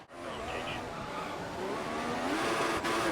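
Tyres on an F1 car in the game F1 2014 squeal as the rear steps out, a close sustained screech over the engine's high whine, with no voices.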